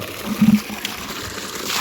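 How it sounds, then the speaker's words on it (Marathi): Water runs from a farm borewell in a brief, close trickle and splash, a few louder gushes over a steady low flow, with no voices. "आता बोरला बघा असं कंटिन्यू दिवसभर पाणी चालतं आहे"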